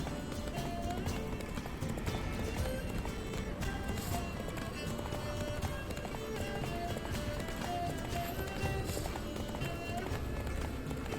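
Horse hooves galloping in The Witcher 3, a steady rapid run of hoofbeats with game music and a voice talking over them throughout.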